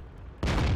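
Cannon fire from a T-25 tank in a video game: a sudden heavy boom after a quiet stretch, swelling into a loud sustained roar.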